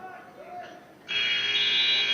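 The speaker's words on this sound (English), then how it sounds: "And the buzzer will sound, and we're down in the second period." A loud, sustained electronic buzzer ends a period in a high school wrestling match. It cuts in abruptly after a second of quieter gym ambience and holds steady to the end.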